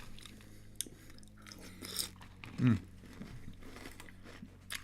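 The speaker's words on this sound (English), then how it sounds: "So you don't have to hear me constantly munching." Crunchy Frosted Flakes cereal being chewed close to the microphone, a series of soft crunching bites with one louder crunch midway, in an otherwise quiet room.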